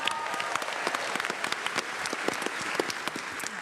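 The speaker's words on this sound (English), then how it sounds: "Let's give that another round of applause." Audience applause fills a Comic Con panel hall for The Big Bang Theory at San Diego Comic Con: dense, steady clapping from a large crowd, sustained and even throughout with scattered sharper claps.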